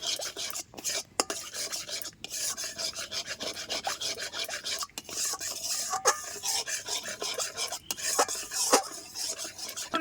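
Sugar caramelizes in an empty wok while being stirred, giving a continuous, rhythmic dry scraping close up, with brief pauses between strokes.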